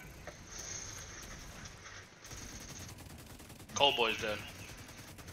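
Rapid gunfire rattles in an online shooter game, fairly faint and continuous with a louder burst near the end, while a player speaks briefly.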